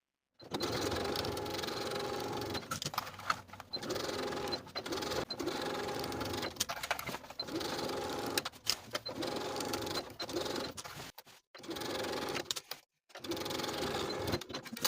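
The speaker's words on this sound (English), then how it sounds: "we'll sew the facing to the neckline from center back to center back with a 1/2 inch seam allowance" A sewing machine stitches a facing onto a dress neckline, running in close, steady bursts of rapid mechanical whirring separated by short pauses and stops.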